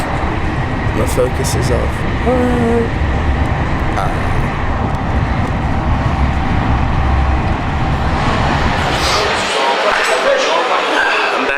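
Loud, steady rumbling station ambience at Gare du Nord in Paris, with crowd and rail noise throughout and someone speaking briefly over it.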